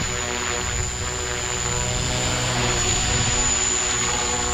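Steady, high-pitched whine of an Align T-Rex 300X radio-controlled model helicopter's rotors and motor, continuous and close, holding an even drone.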